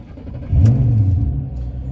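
A Ford Mustang engine fires up after a clutch master cylinder replacement, a low rumbling catch swelling suddenly and settling into a steady idle close by.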